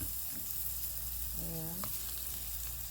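Mutton frying in a pan, a close, steady hissing sizzle throughout, with a short voice briefly heard partway through.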